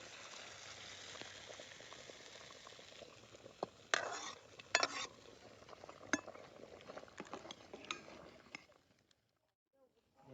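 A pan of village-style chicken curry bubbles and simmers steadily, with a few sharper clatters in the middle before it falls quiet.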